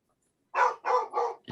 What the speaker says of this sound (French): Je suis embêté parce que la chienne aboie.